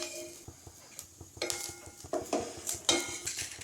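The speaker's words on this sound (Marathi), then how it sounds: "आता आपल्याला गॅस कमी करून हे मिश्रण हलकंसं भाजून घ्यायचं आहे" A spice mixture dry-roasting on a griddle over low heat for an egg curry, with a spatula scraping and stirring in irregular strokes over a faint, steady sizzle, close and moderately loud.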